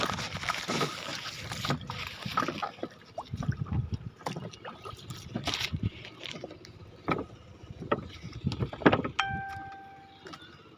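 A boat travels down the middle of a river, its low engine and water noise steady beneath faint knocks and clatter, with a brief tonal whine near the end.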